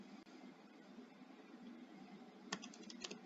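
Quiet keystrokes on a computer keyboard tap over faint background hiss, with a short cluster of clicks near the end.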